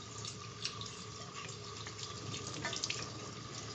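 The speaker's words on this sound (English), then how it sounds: "I'm going to fill the sight tube full of water." Water runs steadily into a sight tube mounted on a test cock of a double check valve assembly backflow preventer, a continuous close trickling flow with faint splashy detail and no talking.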